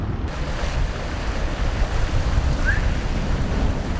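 Winter sea swells slosh around a small diving boat off Ulleungdo island, a loud, constant rush of waves mixed with wind buffeting the microphone, with no one speaking.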